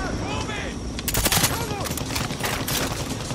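Rapid bursts of automatic gunfire from the video game Far Cry 6, loud and dense with sharp overlapping cracks, mixed with game sounds and brief voices.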